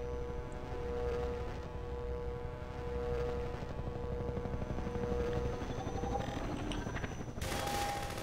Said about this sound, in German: Geh weg, Heli.